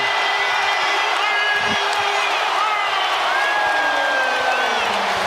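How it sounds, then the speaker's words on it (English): A basketball arena crowd roars for the Boston Celtics during a playoff game, a loud, sustained wall of cheering with whoops throughout, under a commentator's voice. "Well, the crowd delighted."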